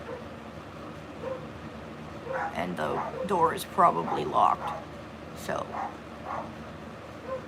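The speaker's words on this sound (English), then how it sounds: "If you can hear my dogs barking," Dogs bark and yip indoors at a home in a short cluster of overlapping barks, heard under a person talking steadily over a low background hum.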